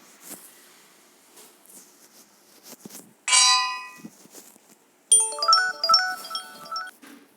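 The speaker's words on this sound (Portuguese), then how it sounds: "Vou botar a bigorna aqui." Anvil placed in a survival-style video game, heard as a sharp metallic clang midway, followed by a bright chiming run of tones, over a quiet background of faint clicks.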